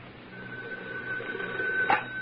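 A telephone rings in an old radio drama, a steady electric buzzing ring held for about two seconds, moderately loud over faint background hiss.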